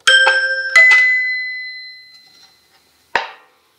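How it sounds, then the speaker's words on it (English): Several quick bright notes from a Soviet Zvenigorod toy piano ring out and fade, followed by a short isolated clunk; bell-like, close and solo. "This is Звенигород Toy Piano, which is from USSR."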